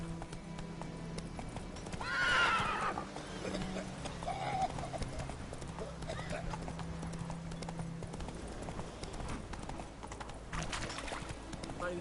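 Roach, a horse in Witcher 3, clip-clopping along with steady hoofbeats at moderate distance, a brief neigh early on, over a constant low ambient bed.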